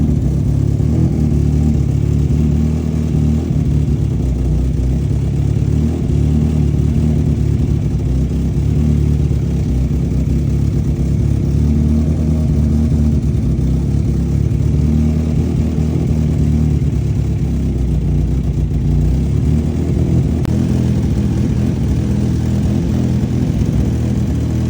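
VW Mk1 16v engine fitted with individual throttle bodies, installed in a Rabbit pickup, runs continuously with a loud, close, throaty idle and periodic revving, a steady mechanical drone with no talking.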